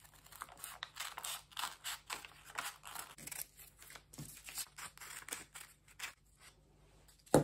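Scissors cutting out a paper corset pattern with a basque waistline, a steady series of soft, close snips and paper rustles repeating at a brisk uneven rhythm, with no talking.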